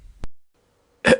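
A single short, sharp cough bursts out near the end, preceded by a faint click and a moment of near silence.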